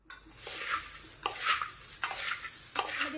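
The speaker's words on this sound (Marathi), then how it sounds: "हे सर्व जिन्नस आपल्याला छान एकत्र मिक्स करून घ्यायचे आहेत" A spoon stirring sabudana khichdi ingredients together in a pan, with a few steady scraping sweeps against the metal at regular intervals over a soft continuous hiss, no talk.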